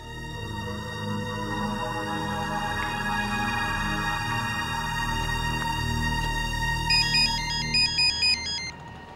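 A phone ringtone plays steadily for about nine seconds, a repeating electronic melody that stays loud and unbroken, with a brighter chirping figure coming in near the end and no talking over it.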